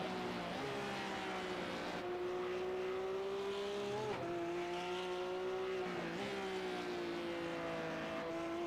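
Onboard the Asher Racing car in iRacing at the Nürburgring, a steady, loud engine drone rises and falls with each gear change, with a few brief dips where the driver lifts off, alone with no talk.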